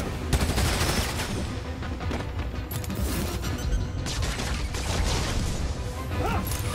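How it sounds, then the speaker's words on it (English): Gunfire in a Spider-Man game, rapid overlapping shots and crashing impacts packed across the whole span, loud and busy with a chaotic combat mix around it. "opening fire!"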